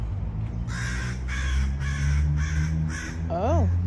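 Several crows caw in a park in Hollywood Heights, a run of five harsh evenly spaced calls close by, with a person speaking alongside them.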